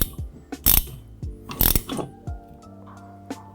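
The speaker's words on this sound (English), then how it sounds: "We're going to take a half wrench and put it on the bolt head below, and then go ahead and start tightening this down" Half wrench ratcheting on a bolt head below a fog light mount on a Bronco, giving a few short loud clicking bursts with gaps between them, no talk.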